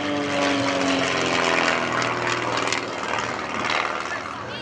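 Propeller aerobatic airplane climbing vertically at an air show over Severin: a loud, sustained droning engine whose pitch shifts as the plane pulls up and passes, with a commentator talking over it.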